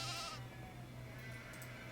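A sheep bleats at a monitoring station in the Nancy Drew game The Haunting of Castle Malloy, one wavering call heard up close at the start over a steady low hum, then fading out as the hum continues.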